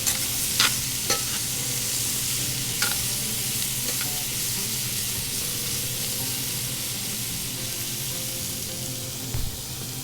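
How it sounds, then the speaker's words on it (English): Squash and zucchini with herbs sizzle in sausage fat in a pan, a continuous bright frying hiss broken by a few sharp scrapes and clinks from stirring. "Stir this around, like get that good fat all over the squash and zucchini."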